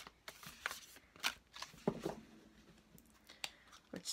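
A deck of tarot-style cards is shuffled by hand in short, uneven bursts of riffling and flicking, quiet and close with pauses between each pass.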